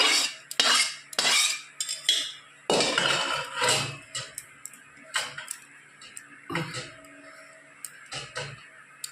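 Potatoes and meat go into a biryani pot, with close metallic clinks and scrapes of a spoon against the pot, irregular and fairly loud, plus a few heavier knocks.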